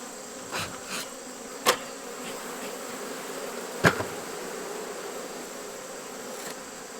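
Honey bees at a healthy West Virginia hive give a continuous low buzz with a few sharp knocks and clicks nearby, and nobody talks.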